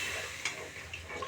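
Spiced masala frying in oil, with water poured into the hot pan, gives a steady close sizzle and a brief bubbling surge as the liquid hits, with no talk.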